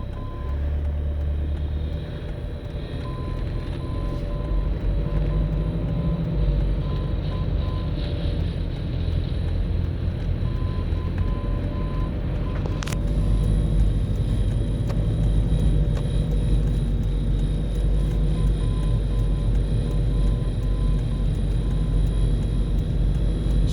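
A car drives steadily with a continuous low engine and road rumble and a faint high whine, holding at an even level throughout with no talking.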